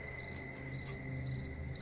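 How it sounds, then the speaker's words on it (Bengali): Crickets chirp at night in a graveyard, a steady, fairly faint chorus of overlapping high trills that runs unbroken with no voices. "চারপাশে শুধু ঝিঝি আর পেঁচার ডাক।"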